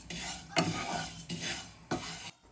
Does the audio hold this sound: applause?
no